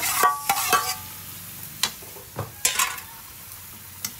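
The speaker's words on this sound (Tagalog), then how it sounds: "Haluin ang bonggang-bongga." Chayote and carrot sautéed with shrimp are stirred in a pan, with a spatula scraping and clacking in irregular bursts over a light background sizzle, close and fairly loud.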